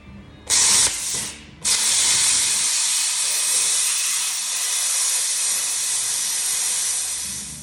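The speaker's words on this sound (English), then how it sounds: "Got my plasma cutter set at 28 with the gouging tip on it. And I'm just going to go around right next to the weld and gouge out the weld" A plasma cutter set to 28 with a gouging tip gouges out a weld beside a bracket on a truck frame, a loud, steady roaring hiss that starts with a short burst, stops briefly, then runs continuously to the end.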